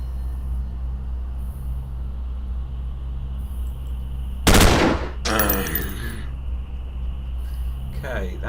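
Automatic gunfire in the Stellar Tactics video game bursts out once as a sharp, brief rattle over a quiet humming background, followed by a short trailing clatter.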